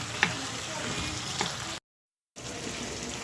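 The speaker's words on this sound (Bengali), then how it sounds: "আর এখন মাংসটা একটু ভালোভাবে কষাই নিতেছি" Meat sautés in a pan with an even, moderate sizzle and occasional stirring taps; the sound cuts out briefly in the middle, then the frying resumes.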